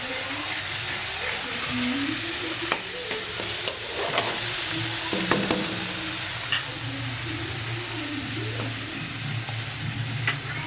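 Garlic, ginger, coriander and coconut masala frying in oil for a fish curry, with a continuous low sizzle and occasional spoon scrapes and taps while stirring; a voice can be faintly heard.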